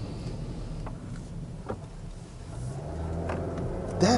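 Suzuki Swift Sport with a small turbocharged engine accelerating, a steady engine drone building in loudness over a few seconds with a rising tone near the end, heard from inside the car.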